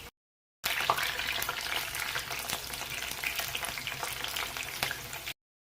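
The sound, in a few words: okra pieces frying in hot oil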